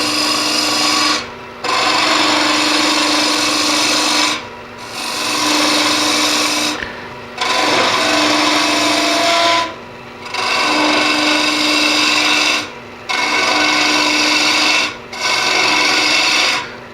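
A carbide cutter hogs out the inside of a tulip-shaped wood vessel spinning on a lathe, a loud scraping rasp over a steady motor hum, broken into repeated passes with short pauses between them.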